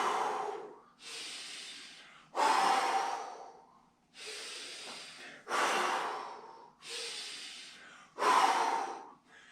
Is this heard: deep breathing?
yes